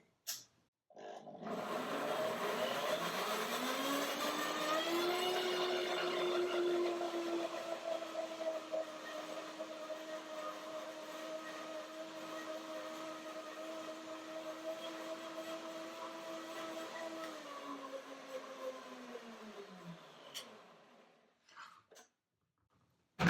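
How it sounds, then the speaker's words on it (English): A kitchen blender whirs loudly while blending cashew, banana and yogurt for ice cream, its motor pitch sliding up, holding steady for a long stretch, then winding down before it stops. "Blender dance."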